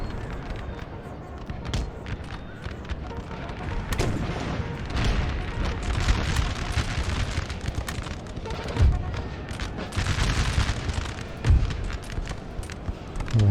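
Artillery firing in a Napoleonic-era battle from the Napoleon Total War mod, with repeated booming shots and crackling volleys spread over a dense, continuous din of battle, some reports louder and closer than others.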